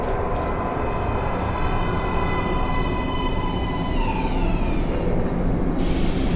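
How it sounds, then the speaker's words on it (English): A metro train pulls into an underground station platform in Metro: Last Light Redux, a loud continuous rumble with steady high whine and screech running throughout, with no talk over it. "Please step away from the edge of the platform. Train coming in."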